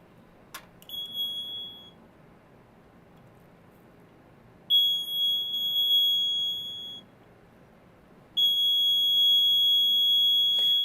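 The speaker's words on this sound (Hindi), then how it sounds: "जैसा कि आप देख सकते हैं कि जब मैं इसे बगदाद बैटरी से जोड़ता हूँ, तो यह बजर भी काम करता है।" Electric buzzer wired to a replica Baghdad clay-pot battery gives three shrill, steady electronic tones, short at first and then longer, starting with a click, with no voices.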